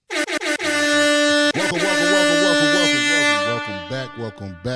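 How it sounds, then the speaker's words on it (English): Several short air horn blasts in quick succession, then one long, loud sustained blare that wavers and breaks into choppy bursts at the end. "I did a little air horn"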